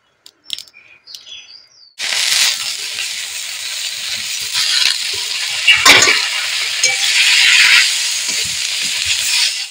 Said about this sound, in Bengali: প্রথমে এই তেলাকুচো শাকটাকে ভালো করে কেটে ধুয়ে নিয়েছি, এটাকে কড়ায় দিয়ে নেব।